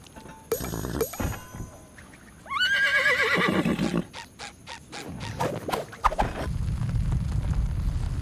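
A horse neighs in the SpongeBob SquarePants: The Cosmic Shake video game, with a loud drawn-out whinny among grunts, thuds and clattering game sounds.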